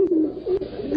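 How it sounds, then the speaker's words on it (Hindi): A pigeon gives a soft, low, rolling coo, one brief drawn-out call heard up close. "कबूतर है ये।"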